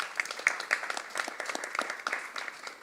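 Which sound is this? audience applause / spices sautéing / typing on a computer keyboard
audience applause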